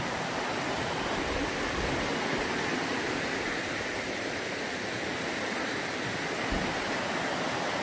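Waterfall in a mountain valley pouring steadily, a dense, continuous roar of rushing water that stays loud and even throughout with no voices.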